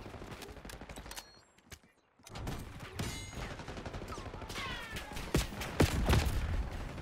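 Rapid gunfire in Black Ops 6 crackles through most of the stretch, with a brief near-silent gap before bursts resume, growing louder and denser toward the end.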